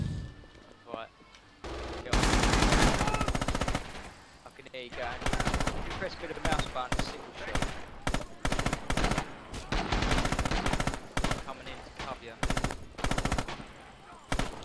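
Machine gun fire in Heroes of the West, heard as loud repeated bursts of rapid shots with brief gaps between them, continuing through most of the stretch.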